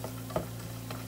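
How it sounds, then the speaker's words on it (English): Flour whisked into hot fat in a pan for a roux gives a low steady sizzle with a soft scrape or tap of the whisk, close and continuous, no voices. "We're gonna just whisk this right on in and let this cook for about a minute or 2."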